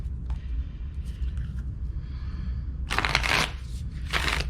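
Tarot cards are shuffled in two distinct bursts of rapid riffling and flapping, close and crisp, preceded by a few softer handling sounds.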